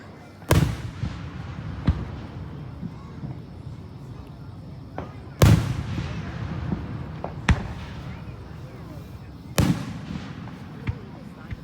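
Fireworks at a 4th of July show burst in four sharp, loud booms spaced several seconds apart, each trailing off into a rumbling tail, with softer crackles and distant pops in between.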